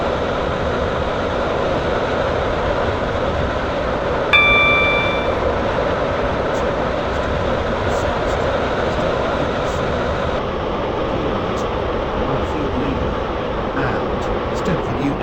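A Class 331 train runs along in the Roblox game Stepford County Railway, a steady rumbling drone throughout, with a single short chime partway through.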